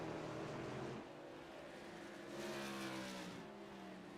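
Race cars in iRacing at New Smyrna, a steady layered engine drone from several cars circulating together, pitch rising and falling as they pass, with no pauses.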